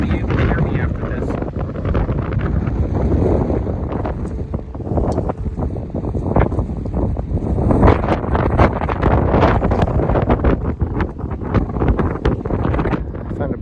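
Strong wind gusting across a rocky, tree-lined mountain pass on the Pacific Crest Trail near Mount Adams, buffeting the microphone in a loud, continuous roar with constant rumbling surges and no letup.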